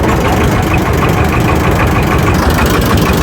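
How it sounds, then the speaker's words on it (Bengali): An engine-powered river boat's motor runs loud and close with a steady, rough, knocking drone that never lets up. "এখন এই যে আমাদের এই মেশিনে স্টার্ট দেওয়া হবে, এটাতে মূলত বৈঠা ব্যবহার করা হয় না।"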